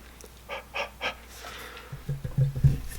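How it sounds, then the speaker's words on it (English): Three short, close breaths exhaled onto freshly applied super glue at a fly-tying bench, soft airy puffs followed by a few faint low thumps. "just exhale on it, and it'll help that cure up"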